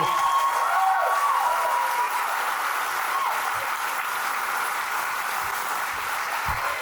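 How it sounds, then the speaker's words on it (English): Comedy club crowd at Spokane Comedy Club claps for comedian Jeremiah Coughlan after his set, a steady, sustained wall of applause throughout with faint cheers mixed in. "You keep clapping for Jeremiah Coughlan."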